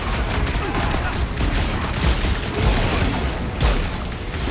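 Dense game combat in Marvel's Guardians of the Galaxy during a battle against Nova Corps forces and a floating mine enemy: continuous rumbling blasts and gunfire-like bursts fill the whole stretch, loud and busy, with faint voices mixed in.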